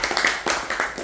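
Applause for the parents at a year-end tennis team banquet, a short burst of many hands clapping in a room, fairly loud and steady with no talk over it.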